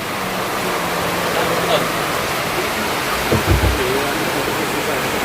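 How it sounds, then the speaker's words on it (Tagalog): Dense, steady hiss of heavy rain pouring down, with faint voices and a few thumps partly buried under the downpour. "Lakas ng ulan."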